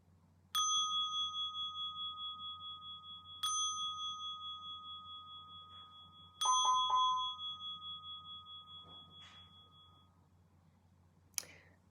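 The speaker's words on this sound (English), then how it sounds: "listening for the sound of the bell" A meditation bell rings three times at the close of a meditation, each clear, bright strike sustaining and slowly fading in a quiet room, followed by a few soft clicks and a brief final ting.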